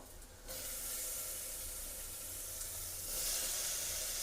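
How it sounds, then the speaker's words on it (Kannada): Chili and tomato fry in a pan for biryani, making a steady, close, loud sizzle and hiss that continues without a break and swells slightly toward the end. "ಇದನ್ನ ನಾವು ನೀಟಾಗಿ ಫ್ರೈ ಮಾಡೋಣ"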